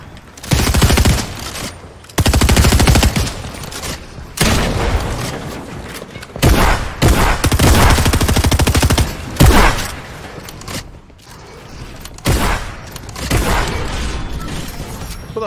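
Fortnite Chapter 4 Season 2 gunfire: loud, rapid volleys of shots in dense bursts, broken by short pauses, running nearly the whole time.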